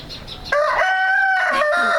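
A rooster crows loudly and close, a single strained call followed by a few short clucks, with no other sound around it.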